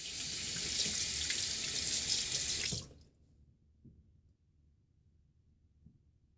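Tap water running steadily into a sink for a quick rinse during a wet shave with a Rockwell 6C razor, a loud close hiss that cuts off abruptly, leaving quiet room tone with a few faint knocks.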